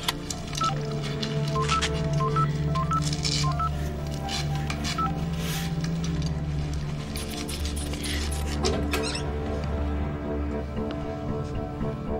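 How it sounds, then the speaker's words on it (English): A satellite phone is dialed, a quick run of short keypad beeps early on over a constant low mechanical hum that continues steadily to the end. "we have the sat phone Bomber."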